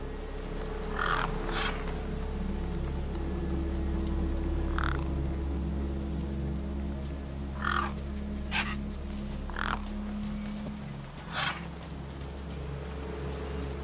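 Gang birds in the video game Beyond a Steel Sky, caws ringing out in several separate bursts over a steady low ambient hum, moderately near.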